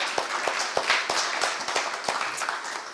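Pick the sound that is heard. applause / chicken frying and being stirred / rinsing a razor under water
applause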